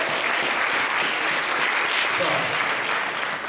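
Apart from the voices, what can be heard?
audience applause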